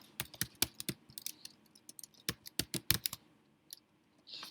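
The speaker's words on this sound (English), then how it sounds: "So I'm going to type that in" Quick bursts of key presses on a computer keyboard, irregular clusters of sharp clicks with short pauses between, close and fairly quiet, no voices.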